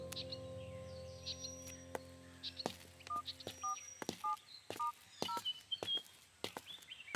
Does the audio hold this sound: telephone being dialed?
yes